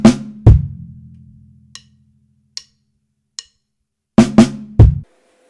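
Two sharp drum kit hits ring with a low booming decay, three soft ticks tap in between, then a quick cluster of snare and bass drum hits ends it.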